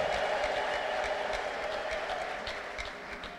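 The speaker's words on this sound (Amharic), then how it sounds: "እልልታ ያምጣ" A church congregation ululates together during a service. The sound is a dense, continuous crowd noise with warbling high cries and clapping-like texture, heard moderately loud throughout.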